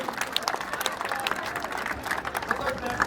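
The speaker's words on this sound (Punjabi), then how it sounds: "ਇੱਕ ਵਾਰ ਜ਼ੋਰਦਾਰ ਤਾੜੀਆਂ ਮਾਰ ਦਿਓ ਜੀ" A crowd at a village sports event in Mandi Kalan, Bathinda, claps loudly to cheer a young girl runner, a steady dense patter of applause running throughout with voices mixed in.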